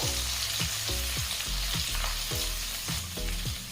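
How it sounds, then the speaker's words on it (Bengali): Ginger and garlic paste fry in a pan, a close, loud steady sizzle with repeated rhythmic scraping strokes of a spatula roughly every half-second, no voices. "এবারে আদা আর রসুনটাকে একটু ভেজে নেব যাতে আদা আর রসুনের কাঁচা গন্ধটা চলে যায়"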